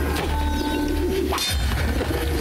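Pigeon cooing in the video game Assassin's Creed Brotherhood, a brief coo rising over steady, dense game ambience and background noise.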